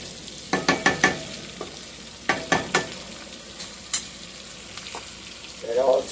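Sweet potatoes with allspice boiling in a pot on the stove, with a steady bubbling hiss broken by sharp clinks and scrapes of stirring, close and moderately loud.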